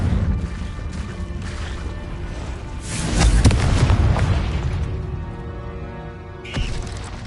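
A Confringo fire-blast spell erupts in the Hogwarts Legacy video game, a loud booming burst swelling midway and rumbling off, followed by a shorter sharp crack near the end over steady game ambience.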